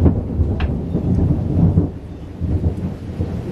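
A thunderstorm rolls on with deep rumbling thunder over steady rain, the low roar swelling and fading across several seconds with no voices.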